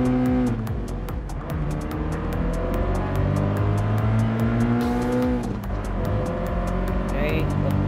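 Subaru BRZ race cars in Gran Turismo Sport rev and accelerate off the line at a race start, a loud sustained engine drone with rising pitch, with faint tire squeal late and a voice talking over it.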